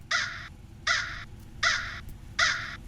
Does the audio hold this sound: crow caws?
yes